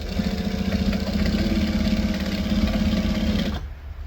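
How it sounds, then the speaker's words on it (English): Domestic sewing machine running at a steady pace, stitching forward and back stitching through fabric at a 2.5 stitch length, a close, even whirring hum that stops abruptly near the end. "I'm going to stitch, and now I'm going to back stitch"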